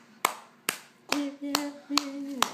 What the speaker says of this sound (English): watch how I clap